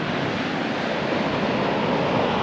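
Surf at Tenneti Park beach in Vizag washes in at night as a continuous, loud broadband rush with no pauses and no voices.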